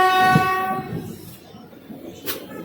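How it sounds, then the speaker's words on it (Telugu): The Gudur–Renigunta passenger train passes at Gudur Junction station, opening with a loud, sustained multi-tone horn that fades into rolling wheel and carriage rumble, with a brief hiss of noise near the end. "ఇదిగోండి ఇక్కడ మనకు కనిపిస్తున్న ట్రైన్ వచ్చేసి"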